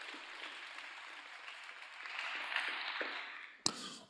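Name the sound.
audience applause for the participants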